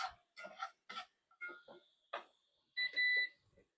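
A kitchen timer goes off during crockpot spaghetti sauce cooking, giving a series of short electronic beeping bursts followed by longer sustained tones, fairly clear with no talk over it.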